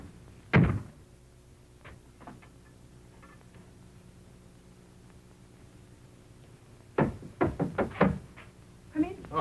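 A sharp knock on a door sounds early, followed later by a brief cluster of knocks or thumps. Faint background hiss fills the pauses in an old film-style recording.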